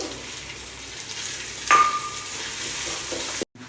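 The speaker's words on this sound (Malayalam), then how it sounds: "വെളിച്ചെണ്ണ ചൂടായിട്ടുണ്ട് ഇതിലേക്ക് നമ്മളിതാ നുറുക്കി വെച്ച തേങ്ങ കൊത്തിട്ട് കൊടുത്തു" Coconut pieces fry in hot coconut oil with a steady crackling sizzle, a brief metallic scrape midway, then the sound cuts out abruptly.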